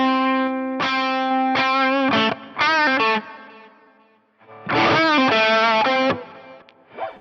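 Electric guitar played through a Fractal FM9 preset with the BB Pre drive pedal switched off, ringing out bright, harmonically rich chords and bends in two loud bursts separated by a short fade, with no voices.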